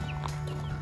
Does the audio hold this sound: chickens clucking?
yes